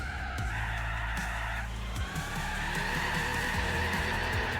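A race car in Gran Turismo 4, stripped for weight and worn down nearly to the rims, its tyres skidding and spinning under power with a loud, continuous squeal over a rough engine drone, no talk.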